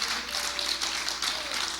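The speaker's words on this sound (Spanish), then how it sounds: "Dale un aplauso al Señor." A congregation at a Spanish-language church service gives a short round of applause, a broad hiss of many hands clapping at moderate distance with no clear individual claps standing out.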